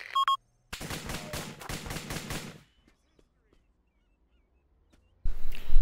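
Heavy machine gun fire in the military video game ARMA, a loud rapid burst of repeated shots lasting about two seconds, then quiet before another loud noise starts.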